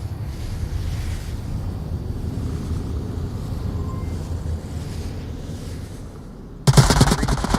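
Gunfire rings out during a competitive video game match: a steady low rumble of wind and ambience gives way near the end to a loud, rapid burst of shots.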